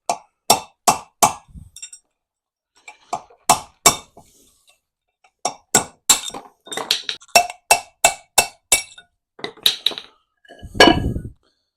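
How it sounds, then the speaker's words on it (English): An inner wheel bearing race on a retro Vauxhall Nova being knocked in with a hammer and punch: sharp metallic clinks in quick bursts of three to five strikes, pausing between sets and ending with a louder, heavier blow. "The inner bearing is tapped in with a hammer and a punch."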